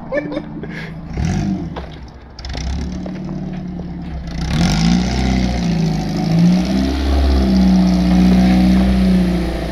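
A Jeep YJ's 2.4-litre four-cylinder engine idles roughly, then revs up and holds a loud droning pitch, rising and falling, heard close.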